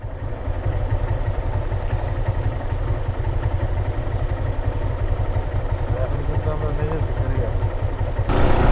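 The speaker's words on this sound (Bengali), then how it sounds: "মেঘের মধ্যে বাইক রাইড করতেছি" A motorcycle rides through thick cloud in the Bandarban hills on the way to Mirinja Valley. Its engine gives a steady, close, loud drone with wind roar throughout, and a voice talks over it.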